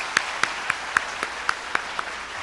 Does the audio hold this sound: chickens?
no